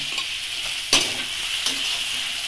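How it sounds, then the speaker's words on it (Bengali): Bethua greens with garlic and salt frying in a pan, a constant close sizzle broken by one sharp stirring scrape and a lighter one later. "এটাকে ভালো করে ভেজে নেব। ভেজে নেওয়ার সময় এটাকে একটু লবণ দিয়ে নেব।"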